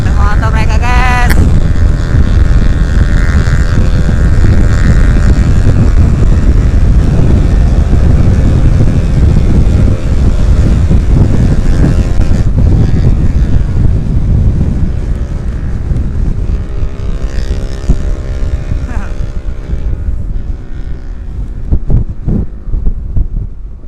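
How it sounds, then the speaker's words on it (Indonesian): Motorcycles speed along a road near an airport during a Sunday morning group ride, engines droning steadily and loudly under heavy wind rush, with revving swells near the start and end. "Pada ngetes motor guys."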